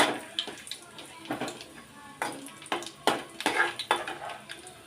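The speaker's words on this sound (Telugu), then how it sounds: "ఇదిగోండి నాలుగు వెల్లుల్లిపరాకులు కొద్దిగా జీలకర్ర వేయించుకోవడం" Garlic cloves and cumin seeds frying in a pan, with soft sizzling broken by repeated stirring scrapes and clatters at close range.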